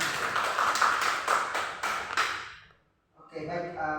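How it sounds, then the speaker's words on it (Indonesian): A primary school class claps together in a short burst of rhythmic hand claps that fades to silence, then children's voices start up. "Oke, tepuk tangan untuk kita semua."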